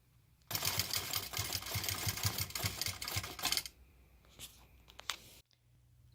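A Butler longarm quilting machine stitching an edge-to-edge design runs steadily with a rapid, rhythmic mechanical clatter for about three seconds, then drops to quieter, intermittent clicks and whirs before near silence.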